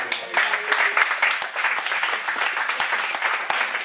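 A church congregation applauds and cheers at a service, with steady clapping and crowd voices throughout, fairly loud and close.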